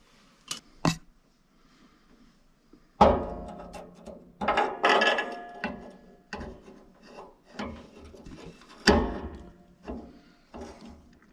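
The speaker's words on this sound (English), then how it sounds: "Is the auger turning? Yes, it is." The auger in a broken pellet stove under repair turns with intermittent grinding, scraping bursts, preceded by two sharp knocks, all close and without talk.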